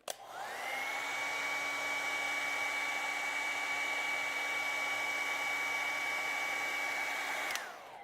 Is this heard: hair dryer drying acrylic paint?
yes